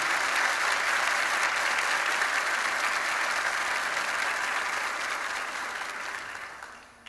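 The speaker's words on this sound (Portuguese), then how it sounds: "a igreja dá uma salva de palmas" Church congregation giving a round of applause during a service, loud steady clapping from a large group that carries on for several seconds before fading out near the end.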